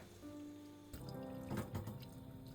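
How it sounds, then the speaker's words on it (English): Tap water runs into a pot of boiled chestnuts sitting in a kitchen sink, a soft steady splashing and rushing that thickens after the first second and stays close and fairly quiet. "I add water to cool it."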